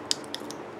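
Scissors on a Leatherman Free T4 multitool snap open with a few faint, quick mechanical clicks in under a second, close up and quiet.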